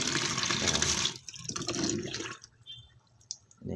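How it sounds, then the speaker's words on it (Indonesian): Water from a tap pours and splashes over mini frogs being rinsed, a loud steady gush for about a second, then softer intermittent splashing and trickling with pauses and a brief resurgence at the end. "kita siram lagi katak-katak mini tersebut menggunakan air"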